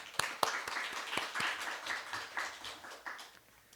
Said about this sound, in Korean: 우리의 찬양을 받으실 하나님께 우리 박수로 영광 돌립니다